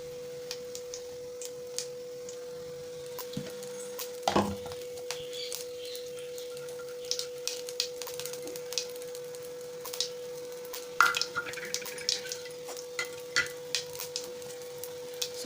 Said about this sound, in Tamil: சோம்பு சேர்த்திட்டு சோம்பு நல்லா கொஞ்சம் பொரியட்டும்